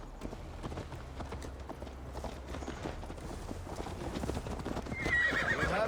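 In Assassin's Creed Valhalla, a horse gallops with steady rhythmic hoofbeats close by, and a shrill neigh breaks out near the end over rising wind and motion noise.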